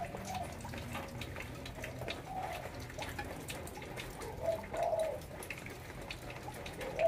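Doves coo in a bird-keeping setting, a few soft, moderately near calls rising around the middle and end, set against a steady background hiss of water and ambient noise.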